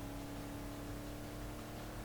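A Ford Mustang engine in Need for Speed Most Wanted holds a steady droning hum with a fixed tone, quiet and continuous throughout.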